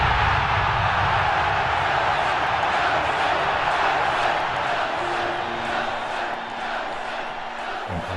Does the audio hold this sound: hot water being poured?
no